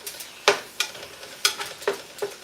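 Greens cooking in a home kitchen pan, with a soft continuous sizzle and several sharp stirring scrapes and clatters spaced through the moment, close and moderately loud with no talking.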